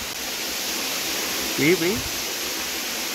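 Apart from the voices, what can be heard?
water flowing strongly in farm well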